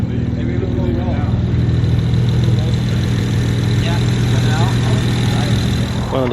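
A naturally aspirated car idles steadily with a low, throbbing rumble at a car show, while people talk nearby over the engine.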